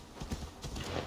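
Quick hoofbeats clip-clop close up, a short burst of trotting with a faint whinny from a horse in the video game Assassin's Creed Valhalla, lasting barely a second.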